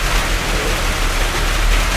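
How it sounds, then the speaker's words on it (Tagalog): Heavy rain pours down in a loud, unbroken hiss that fills the whole clip, steady and close, with no voices over it. "yung lakas ng ulan kasi na eh"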